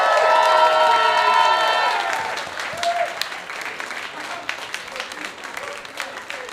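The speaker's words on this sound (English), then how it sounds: "clap your hands, stamp your feet, make as much noise as you humanly can" A big audience claps, stamps and cheers loudly, with whoops and shouts at first, then the noise thins into scattered claps and stomps.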